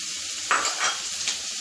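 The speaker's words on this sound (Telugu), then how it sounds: "ఇప్పుడు ఇక్కడ నేను దొండకాయ ముక్కలు వేస్తున్నానండి" Ivy gourd pieces dropped into a hot pan burst into a close, crackling sizzle, with a brief stir-like scrape as the oil settles, quiet and with no talking.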